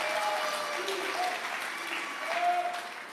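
A crowd claps for staff at a graduation ceremony, with sustained, moderately loud applause from an audience that holds steady throughout, mixed with faint background voices.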